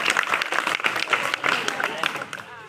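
A group of children at a school youth event clap loudly in a fast, ragged burst of overlapping claps, with voices mixed in. The clapping thins out toward the end.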